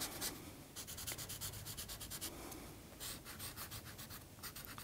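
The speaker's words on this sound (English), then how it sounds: "So then I'll rub those in." Pastel chalk is rubbed into paper in a steady, close scratchy rhythm of quick repeated strokes, faint and dry, with no talking.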